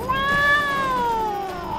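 A cartoon cat stuck up a tree lets out a single long, loud, close meow whose pitch rises and then slowly falls, heard alone without talk.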